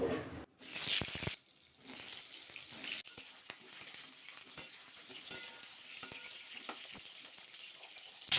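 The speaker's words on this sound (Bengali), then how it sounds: "প্রথমে পটলগুলো ভাজা করে নেব।" Pointed gourd fries in hot mustard oil in a kadai, a soft sizzle beneath louder stirring clatter and scrapes near the start, then quieter crackling.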